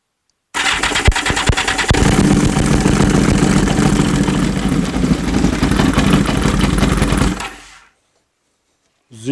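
An old motorcycle engine that had not run for a long time, loud and close, roaring and clattering steadily for about seven seconds before cutting out and fading to silence, with no talking over it.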